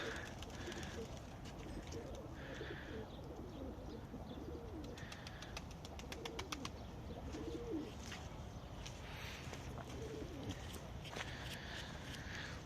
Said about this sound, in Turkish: Bakın arkadaşlar kuşlarımızı çıkarttık.